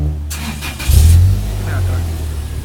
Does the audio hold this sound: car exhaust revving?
yes